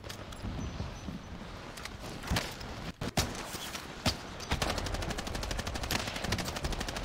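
Gunfire in a video game with a sniper rifle, loud repeated shots and rapid bursts over a dense noisy game soundscape, the firing growing faster and steadier toward the end.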